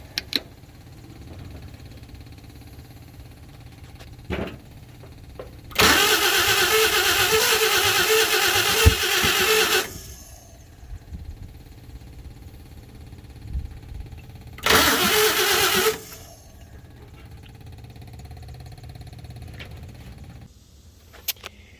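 A 1952 Chevy engine cranks in two loud bursts: the first lasts about four seconds and the second is shorter. Quiet gaps with faint clicks come before, between and after the bursts, and no one speaks.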